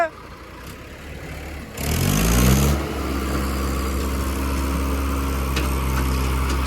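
A tractor engine runs on a farm during wheat harvest, a low steady rumble that revs up sharply for about a second, then settles into a constant drone.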